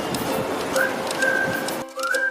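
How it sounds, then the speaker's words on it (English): A pigeon gives soft, steady cooing notes that sound close and clear, with a brief break before the cooing resumes. "PIGEON."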